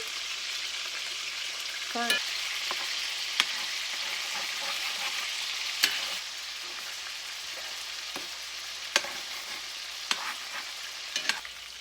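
Meatballs fry in a pan and are turned over, with a steady, moderate sizzle broken by several sharp clicks and taps of the utensil against the pan.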